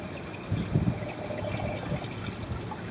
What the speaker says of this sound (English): it sucks all the water out of this cup and just kind of stops the siphon